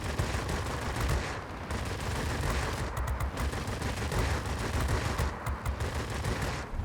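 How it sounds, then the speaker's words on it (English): Sustained machine-gun fire from a single .50 cal on a Yak-7 M-82 fighter in World of Warplanes, a dense continuous rattle over a steady engine roar, loud and unbroken throughout with no talk. "it's only a single 50 cal machine gun"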